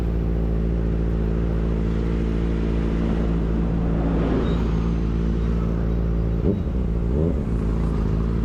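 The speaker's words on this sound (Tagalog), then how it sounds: "Oh, laka ng truck." A loud truck passing on the road nearby, its steady heavy engine rumble and road roar filling the whole stretch, with a brief clatter near the end.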